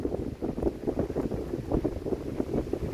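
Strong wind with rain buffets the microphone in continuous low rumbling gusts on Mont Baigura, with a rushing, uneven roar throughout and no voices.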